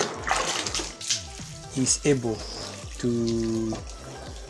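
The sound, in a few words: watering can pouring water on hydroponic fodder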